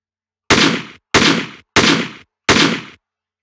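Four evenly spaced gunshots fire from a weapon in an Unreal Engine game, each a loud, sharp burst with an abrupt cutoff and silence between.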